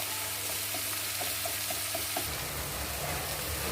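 Crushed ginger and garlic with onion sautéing in a pan for a green gram (payar) masala, giving a steady close sizzle and frying crackle with light stirring scrapes, no voice over it.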